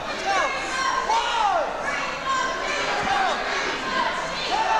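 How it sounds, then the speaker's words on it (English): Wrestling arena crowd noise with scattered shouting and cheering as some fans start a chant for Green Machine, heard as a diffuse roar under a nearby commentator's talk. "some of the crowd starting a Green Machine chant"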